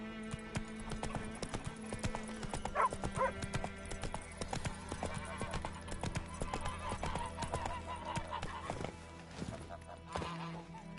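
Roach, a horse in the video game The Witcher 3, trots with a quick, even clip-clop of hooves that is fairly close and clear, over ambient game sounds with a whinny and some faint voices.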